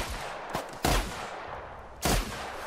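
Shotgun blasts in The Outer Worlds, three loud sharp reports at uneven intervals over a steady background of game noise.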